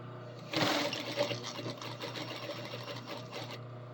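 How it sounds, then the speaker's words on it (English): A sewing machine top stitches along a seam edge, its motor running in a steady close whir for several seconds after a sharp start. "Just like any other top stitch on the edge here."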